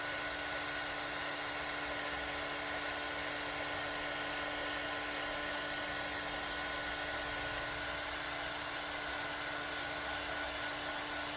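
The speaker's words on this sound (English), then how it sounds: "I will just heat emboss this one now" Heat tool blowing steadily to melt embossing powder on an envelope, a constant high whirring drone that holds level for the whole stretch with no breaks.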